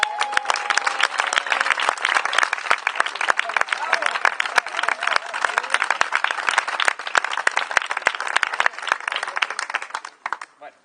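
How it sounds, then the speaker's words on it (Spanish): Crowd clapping for the presenter at an evening event, a lively patter of many hands with sharp individual claps standing out, continuing steadily before tapering off abruptly at the end. "Un aplauso."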